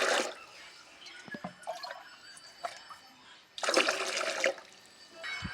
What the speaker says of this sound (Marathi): पाणी बनवण्यासाठी पाणी घेत होतो आता तिखट आणि गोड पाणी बनवण्यासाठी